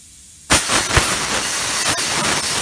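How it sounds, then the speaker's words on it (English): Air hissing loudly from a tire's open valve stem during a valve core swap, starting abruptly with a sharp burst and then continuing as a steady close hiss with small clicks. "So when I take this off, I already have my valve core set up in my tool, and I'm gonna quickly switch it in there so that I don't lose too much air."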